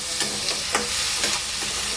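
Onion, tomato and potato fry in a pan under a constant, loud sizzle, while a spatula stirs and scrapes in a regular rhythm about every half second.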